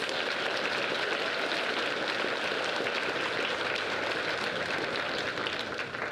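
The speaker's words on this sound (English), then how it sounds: "Round of applause for all of our recipients" Dense, steady applause fills a school awards ceremony as the audience claps for award recipients without pause, loud and close throughout.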